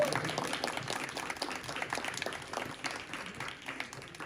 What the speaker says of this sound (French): je vais vous demander d'applaudir très fort